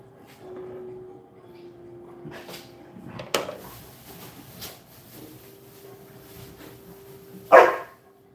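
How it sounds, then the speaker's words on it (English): Pet dogs barking and wrestling indoors in a home kitchen, scattered yips and scuffles, then one sharp close bark near the end. "Dogs are barking and wrestling."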